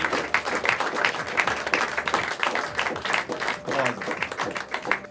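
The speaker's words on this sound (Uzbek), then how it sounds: "Olqishlar qo'yamiz," A studio audience applauds at the Zakovat intellectual quiz game, with dense, steady clapping that fills the whole stretch while voices speak over it.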